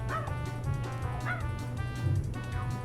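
Polar, a dog character in a Crash Bandicoot video game, gives several short, bright yips and barks at a steady pace over a droning game soundtrack.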